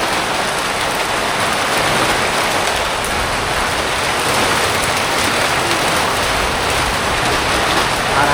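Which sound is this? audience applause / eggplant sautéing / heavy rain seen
heavy rain seen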